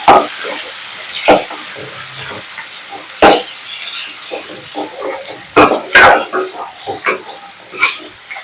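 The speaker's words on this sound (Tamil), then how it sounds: "தக்காளி, நல்லா வதக்கிக்கணும்." Tomatoes and small onions sauté in oil in a pan for an eggplant kulambu, giving a close, steady sizzle broken by clattering stirs of a spoon.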